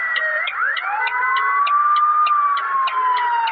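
A police car siren in a bus driving video game set in Indonesia wails loudly and continuously with a sweeping, rising and falling tone and rapid pulsing overtones.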